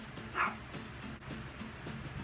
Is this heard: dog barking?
yes